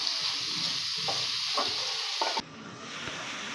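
Onions cooking in a pan with rock salt and turmeric, giving a continuous close, loud sizzle with a few soft stirring scrapes, then a sudden shift to a duller, quieter frying hiss near the end.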